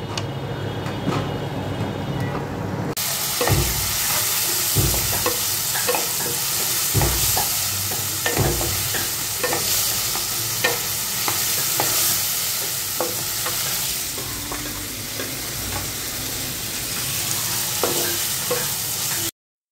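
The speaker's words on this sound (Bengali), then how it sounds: "ওগুলো একটু ভাজা ভাজা হয়ে গেছে, এর মধ্যে দুটো ডিম ফাটিয়ে দিলাম" Capsicum and tomato fry in a pan with a constant loud sizzle, punctuated by repeated scraping knocks of a spatula stirring at irregular intervals, with no one talking.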